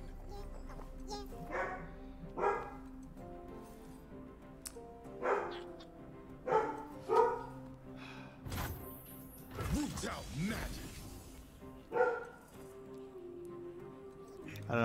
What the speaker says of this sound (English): Can y'all hear Harvey barking?